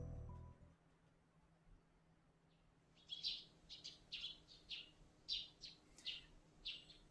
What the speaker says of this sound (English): I hear the tweeting of small birds outside the window.